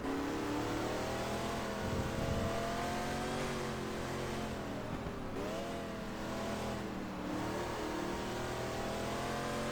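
A racing car engine in GT Legends revs continuously and loudly, its pitch climbing and dropping through gear changes with no talk over it.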